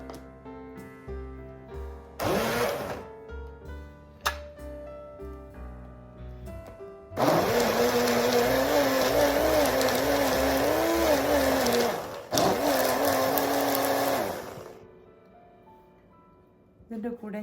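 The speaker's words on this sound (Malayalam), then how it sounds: "നമുക്കിനി ബ്ലെൻഡ് ചെയ്യാം." A kitchen blender whirs steadily for several seconds, blending apple, almond and milk into a milkshake, with a brief pause and restart before it winds down; short bursts and handling noises come before it.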